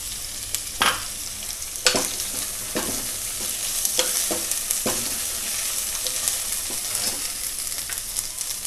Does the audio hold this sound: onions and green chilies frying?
yes